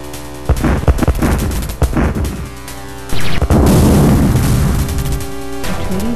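Explosions and gunfire from the Dune 2 strategy game, a loud dense barrage of sharp bangs and booming blasts, with a sustained rumbling explosion in the second half over continuous game sound.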